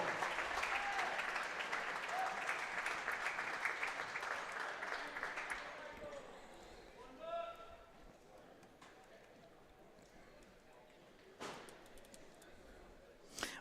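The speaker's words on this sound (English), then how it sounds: "Let's have one more big round of applause" Audience clapping fills the Montour High School gym after an award presentation at a basketball classic, loud and dense at first, then thinning out and fading after about six seconds, with scattered claps afterward.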